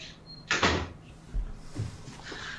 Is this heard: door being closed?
yes